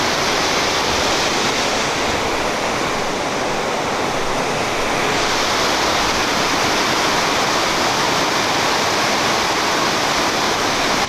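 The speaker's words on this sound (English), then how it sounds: "So that was the gorgeous view of the waterfall." A 69-foot waterfall, Pristine Falls, roars in a loud, continuous rushing wash of water, close and unbroken for the whole stretch with no talking.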